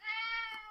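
A single short meow from a house cat, clear and close, with a bright tonal cry that fades slightly at the end and no speech over it.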